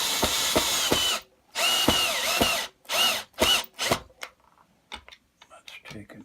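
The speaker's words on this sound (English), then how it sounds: "Now that's drilling right through the shim in the front edge." A power drill runs in several loud bursts while drilling through a shim in the front edge of a Telecaster-style guitar build, the motor whining up and cutting off between passes, followed by quieter clicks and handling noises.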